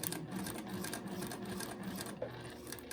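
A domestic sewing machine stitches a curved seam on a quilt block, a quiet, fast, even mechanical whirr with rapid needle ticks running continuously throughout, with no voices.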